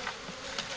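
Honeybees buzz steadily at a De Layens hive during a transfer, a dense, continuous insect drone close to the ear with no voices.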